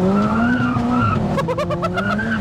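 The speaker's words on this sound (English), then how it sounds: "You can even hear like the tires spinning." A revving 515 bhp big-turbo MK5 Golf GTI engine whines under hard acceleration in third gear, with tires spinning, squealing and chirping in quick bursts midway through.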